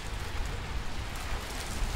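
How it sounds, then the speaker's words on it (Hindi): Heavy rain starting with gusty wind during a storm, a thick broadband patter that swells and eases slightly, close and steady, with no voices. "इधर भी तेज़ बारिश शुरू"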